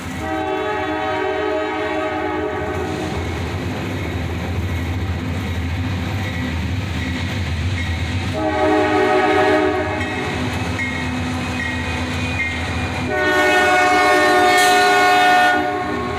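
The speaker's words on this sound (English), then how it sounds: "we catch this southbound with an SD50-3 leading." A southbound freight train led by an SD50-3 locomotive rumbles past on a snowy morning, sounding loud, long horn blasts twice over a continuous rolling rumble.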